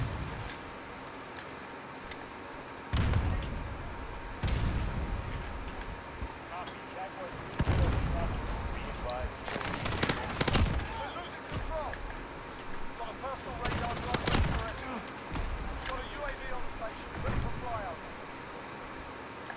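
Gunfire in Modern Warfare beta team deathmatch: scattered sharp shots and bursts at varying distances, some loud and close, with game ambience and people talking over the action.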